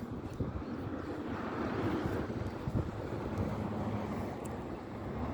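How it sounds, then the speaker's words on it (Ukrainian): Strong wind at a fishing spot buffets the microphone with a steady low roar that swells and gusts throughout. "Вітер сильний, ще й в лице дує."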